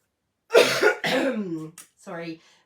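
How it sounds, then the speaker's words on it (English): Two or three harsh, close coughs in quick succession, followed by a short breathy throat sound. "I know I coughed into my hand"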